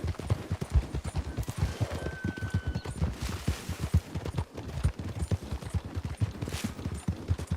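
Horse hooves gallop in a Western-style video game, a fast steady drumming of hoofbeats over a dense, noisy background of game ambience, continuous and fairly loud throughout with no speech.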